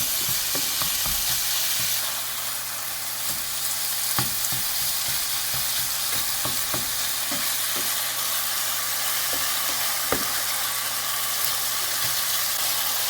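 Ground beef for tacos sizzles steadily in a hot pan, with scattered scraping clicks of a utensil breaking it up, close and continuous.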